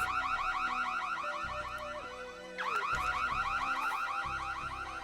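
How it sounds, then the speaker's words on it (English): A car-style alarm blares in A Darker Shade of Grey, a loud, cycling electronic wail that briefly dips and restarts before continuing its steady rising-and-falling pattern. "I'll go turn the alarm off and get a broom."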